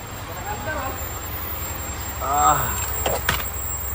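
Mitsubishi Montero engine idling steadily right after starting from a no-start condition, a low continuous rumble with brief rises in pitch, under a voice.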